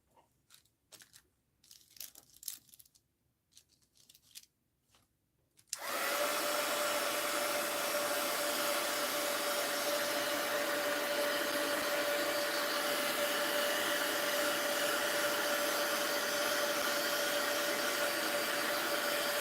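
A hair dryer blows steadily on a mixed-media journal page, switching on after a few seconds of quiet desk handling and running loud and continuous with a constant whine to the end.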